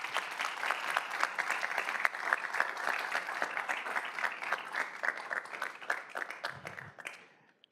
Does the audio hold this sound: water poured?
no